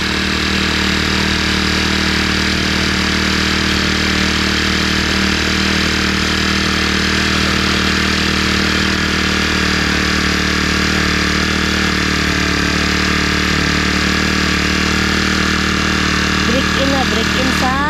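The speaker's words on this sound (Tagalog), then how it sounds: "Break in sa ating grass cutter." A new gasoline grass cutter engine runs steadily through its break-in in front of a house terrace, a loud, continuous buzzing drone that holds nearly level from start to finish with little variation.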